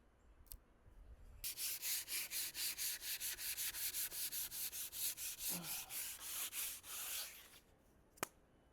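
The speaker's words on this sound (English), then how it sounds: "that's the sanding done" Rhythmic back-and-forth sanding strokes on a wooden plant stand, about two dozen steady rasping passes, close by, with a brief pause near the end and a faint click.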